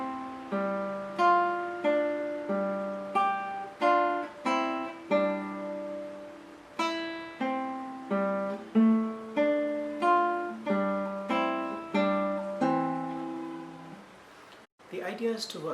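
Nylon-string classical guitar playing the whole of section A of Kuffner's Andantino, an easy piece of evenly spaced plucked notes and chords in steady rhythm, close and unaccompanied, with a brief shuffle at the end.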